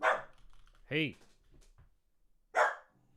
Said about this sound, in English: Okay, sorry about the barking.